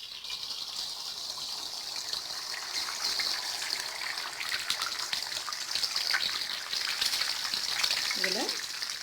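Eggs frying in a little hot oil in a pan give a steady, close sizzle that crackles continuously throughout, with a brief clink near the end.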